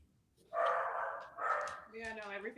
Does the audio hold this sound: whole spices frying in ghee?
no